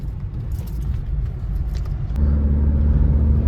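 A CNG car fitted with iridium spark plugs hums along a main road, a low steady engine rumble heard from inside, deepening slightly as it picks up.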